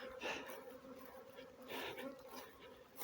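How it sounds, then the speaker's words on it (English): A swarm of honey bees flies around overhead, a faint, continuous buzzing drone with slight swells as individual bees pass nearer. "The bees flying all over my head"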